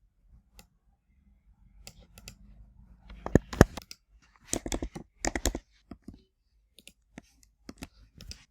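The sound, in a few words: mouse clicking and keyboard typing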